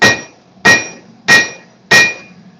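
A hand hammer strikes the tang of a 20-layer Damascus steel knife four times at an even, unhurried pace, each blow a loud, close metallic clang with a short ringing tail.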